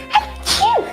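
A single sharp sneeze, close and fairly loud: a brief breathy intake followed by a quick explosive burst that trails off, with no other sound around it.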